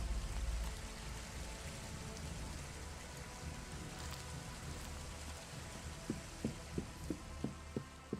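Steady rain hisses throughout in the video game ELEX, a soft even wash of falling water, with a series of regular dull thumps near the end.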